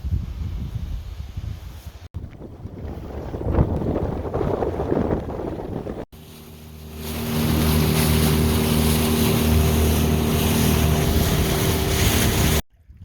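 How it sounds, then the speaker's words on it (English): Wind blows across the microphone beside the Palouse River during a boat launch, loud gusty rumble and hiss, followed by a steady droning boat motor. "Pretty windy."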